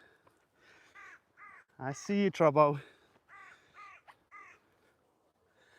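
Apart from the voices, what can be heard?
crows cawing, territorial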